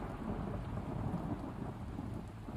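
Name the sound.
thunder from a lightning strike, in an anime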